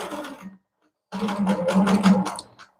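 A Handy Quilter Avante longarm quilting machine runs with a steady low motor hum and a busy rattle, stopping briefly for about half a second before starting up again, close and fairly loud.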